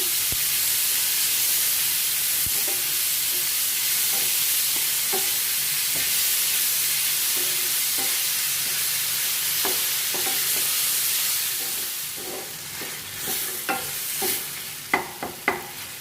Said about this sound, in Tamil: தக்காளி நல்லா வதக்கிக்கலாங்க